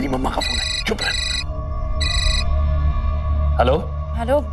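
A mobile phone rings indoors in a home: bursts of a bright, repeating electronic ringtone sound in several short pulses, while people speak over and between the rings.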